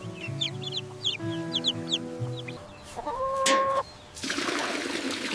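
A rooster clucks in short bursts, then lets out a long drawn crow, followed by a burst of broadband noise; close and fairly clear, with no talk.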